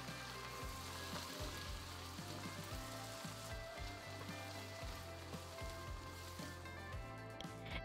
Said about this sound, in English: Add all of the beans and give it a quick stir to mix all the ingredients.